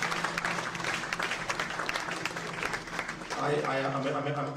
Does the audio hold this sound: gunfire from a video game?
no